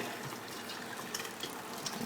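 Boiling water poured into a glass canning jar while canning chili, a steady close splashing fill with a slight gurgle throughout.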